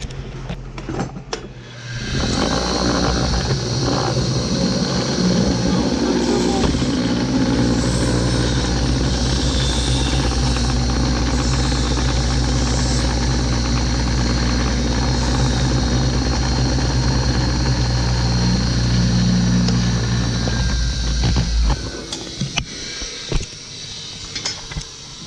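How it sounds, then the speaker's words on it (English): Bench grinder grinding points on forged sweet corn forks, a loud steady motor roar with grinding, sustained for about twenty seconds before winding down, close and with no talking. "But usually I'll just grind these off at the bench grinder."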